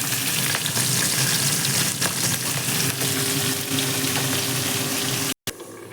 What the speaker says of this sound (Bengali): আরেক লট হচ্ছে ভাজা মাথা, কাতলা মাছের মাথা